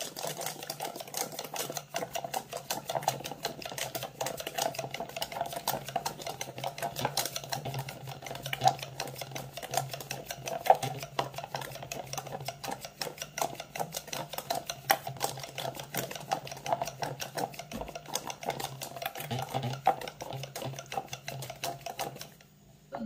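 An electric mixer blends mango pulp into lassi, a steady rapid whirring rattle that runs evenly for over twenty seconds at moderate volume and then cuts off, with no voices.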